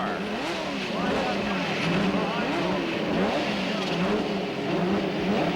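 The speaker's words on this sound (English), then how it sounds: "And the engines are fired and ready to go as up and down in front of the state capitol in Denver, Colorado" Indy cars from the 1990 CART race on the Denver street circuit in front of the Colorado state capitol roar and rev, engine notes rising and falling as several cars pass nearby, with a commentator talking over them.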